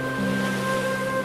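Sea waves wash onto the shore in a continuous, even rushing surf, with no voices.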